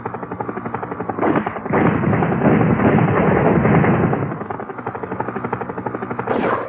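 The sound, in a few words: helicopter in video game Cybernet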